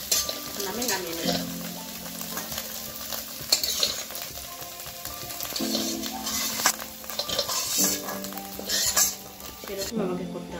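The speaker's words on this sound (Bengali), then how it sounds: "বন্ধুরা আমার আলু পনির কষানো হয়ে গেছে" Potatoes and grated paneer sauté in a pan, a steady sizzling hiss under repeated scraping and clinking of a spatula stirring against the metal, close and moderately loud, with a voice speaking briefly.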